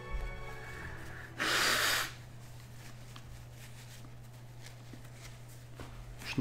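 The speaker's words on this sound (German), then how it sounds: "Schnief, schnief." A single sharp sniff in the video game Persona Q: Shadow of the Labyrinth, a loud, breathy burst lasting about half a second over a steady low hum, with quieter soft rustles afterward.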